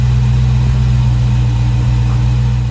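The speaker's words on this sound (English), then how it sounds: "all you gotta do is just start up the car to make sure everything is kosher" Dodge Scat Pack with the 392 engine idling steadily and loudly after starting, a deep constant low rumble with no other sounds.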